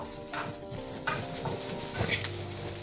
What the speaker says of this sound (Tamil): சின்ன வெங்காயம் போட்டு நல்லா சோட் பண்ணுங்கள்.